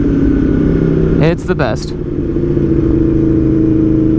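A 2021 Aprilia Tuono V4 motorcycle fitted with a new aftermarket exhaust holds a loud, steady rumbling idle close by, with a brief throttle blip in the middle and someone speaking over it.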